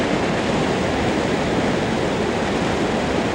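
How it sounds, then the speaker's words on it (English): A waterfall at Gangotri, one in a series of falls on a mountain river, roars as a steady, dense, close rush that stays even from start to finish with no voices. "Second in a series of falls here at Gangotri."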